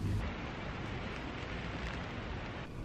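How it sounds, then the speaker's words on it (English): Rain falls outside in a steady, even hiss of dense drops, continuous and moderately loud with no voices. "it's raining, so I'm gonna grab an umbrella and my water bottle"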